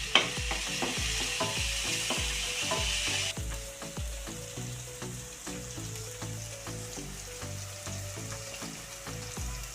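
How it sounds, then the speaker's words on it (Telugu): Mutton curry frying in a pan as turmeric is stirred in, a bright sizzle at first that settles into a softer hiss, with regular scraping strokes of a spoon against the pan, close by and with no talking. "పసుపు వేసుకొని కలిపించుకోవాలి"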